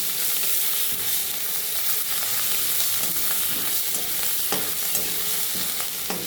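Spices, including ground cumin and black pepper, fry in a pan for masoor dal, giving a steady close sizzle broken by scraping stirs and occasional clinks.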